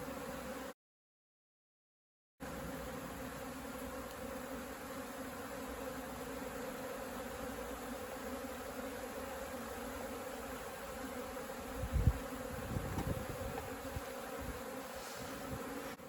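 Native honeybees buzz steadily around a rescued hive outdoors in Mallorca, a dense continuous drone of many insects close by, broken by a short dropout and some nearby bumps and rustles toward the end.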